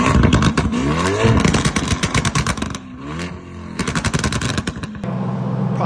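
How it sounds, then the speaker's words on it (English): A stage 2 tuned Lamborghini Urus V8 roars through its exhaust in loud, close revs, with rapid crackling pops and bangs between throttle blips and a brief lull before another burst. "We'll pop up a clip of what a stage 2 Urus sounds like."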